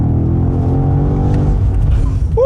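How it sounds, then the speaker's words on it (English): A new BMW M5 with a hybrid V8 revs hard under acceleration, a loud close-up rising engine growl with a strong harmonic drone that climbs steadily in pitch before a quick upshift at the end. "as soon as you wake up that V8, my goodness, listen."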